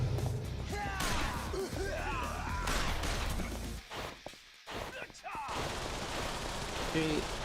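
Gunfire in Yakuza Kiwami 2 rings out in repeated sharp bursts and cracks amid game effects, loud and clustered, with a short lull midway.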